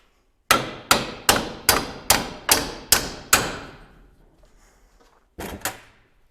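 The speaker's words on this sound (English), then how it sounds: "Get a hammer." Hammer blows driving a bolt out of a Nissan Hardbody truck: eight sharp, evenly spaced metallic strikes ring close and loud, then a pause and two more quick hits.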